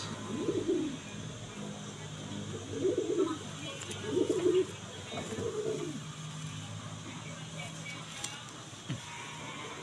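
Brown pigeons cooing close by, four soft low rounded coos in a slow series over the first six seconds, then quieter background with faint ambient noise.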